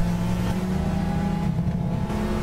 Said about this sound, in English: I'll get copyright because the engine sounds.